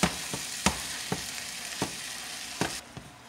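Ground taco meat fries in a pan with a steady broadband sizzle, broken by several sharp clinks and scrapes of a utensil stirring it at irregular intervals; no one speaks.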